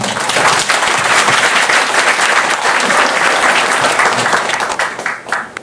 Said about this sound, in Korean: 우리 석준호 협회장님을 모실 때 힘찬 박수 부탁드리겠습니다.